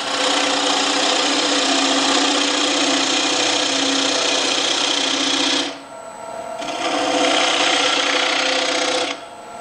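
A wood lathe spins an elm bowl blank, giving a loud, steady motor whine with a bright hiss of cutting, which dips briefly and then resumes near the end; no talk.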